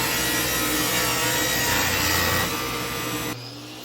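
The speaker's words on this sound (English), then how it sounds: "what you'll see here is I make one single cut on the miter saw" Miter saw making a single cut through a planed white oak board for a countertop cap, a loud close rasping whine of blade through wood that drops off as the cut finishes and the blade spins down.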